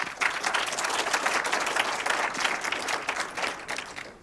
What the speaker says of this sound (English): please give a big round of applause for Tyler Nighswander